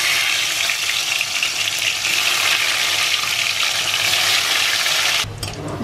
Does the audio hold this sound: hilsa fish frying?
yes